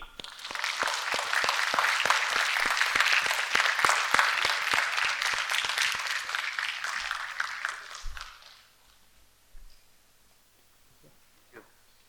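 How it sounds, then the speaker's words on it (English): A crowd at a Shristi Talks conversation event welcomes a host with sustained, full applause lasting about eight seconds, then fades to near silence broken by a few faint thumps and small noises. "Please join us with a thunderous round of applause"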